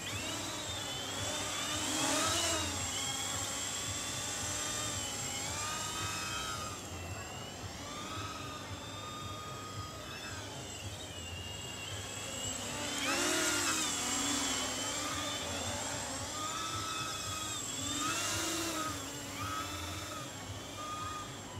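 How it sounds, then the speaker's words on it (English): Motors of a Flying3D X6 hexacopter drone fitted with 6045 propellers whine steadily and loudly, the pitch rising and falling as the rotors speed up and slow, with no talk. "You can hear that the motor are spinning less"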